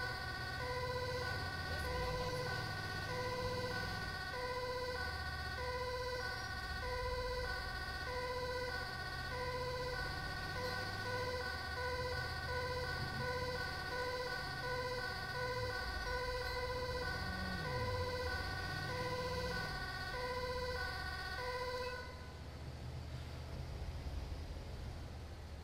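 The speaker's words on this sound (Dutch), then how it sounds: "Je hoort hem echt alsof je echt met een sirene aanrijdt." An ambulance siren in GTA 5 wails in a steady repeating pattern for a long stretch, loud and echoing off tall city buildings over an engine rumble, then cuts out near the end.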